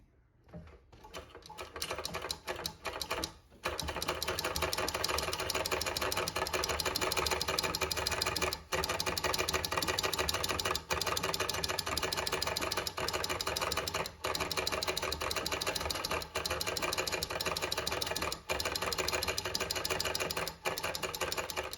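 An 1858 Sloat Elliptic antique sewing machine runs continuously after a brief start, a steady close mechanical chatter of rapid stitching with a fast even rhythm broken by a few tiny pauses.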